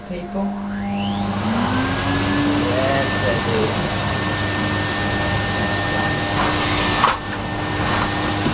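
Household vacuum cleaner running close and loud as a steady roaring whine, with a pitch rise as it spins up at the start and a brief bump near the end; a voice talks faintly beneath it.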